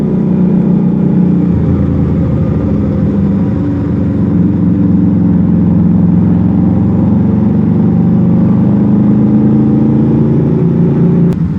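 A Keeway Kaisar Ruby 250cc V-twin motorcycle engine runs steadily on a ride, a loud, continuous low drone with a constant rumble and no break throughout.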